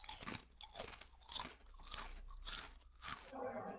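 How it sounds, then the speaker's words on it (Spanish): A cookie is chewed close to the microphone, giving a quick series of crisp crunches at a steady biting rhythm over about four seconds. "Alguien comiendo galleta"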